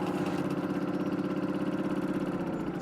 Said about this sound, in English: Arriving for a hot date on a moped.